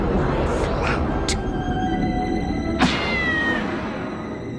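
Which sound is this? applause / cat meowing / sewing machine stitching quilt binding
cat meowing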